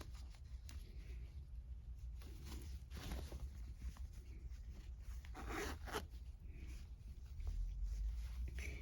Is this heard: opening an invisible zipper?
yes